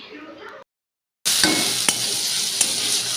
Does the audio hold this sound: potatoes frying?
yes